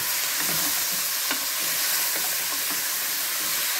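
Spice paste with salt, turmeric and chili frying in a pan for paaye, a loud continuous hiss and sizzle with soft, irregular stirring scrapes beneath.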